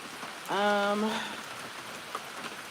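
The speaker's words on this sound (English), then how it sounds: "It's currently raining." Rain falls steadily outdoors on a small rural property on a 74-degree day, a soft, diffuse patter. A brief voiced tone rises over it for about half a second before the light rain hiss carries on alone.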